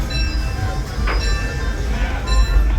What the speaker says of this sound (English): The train is still moving.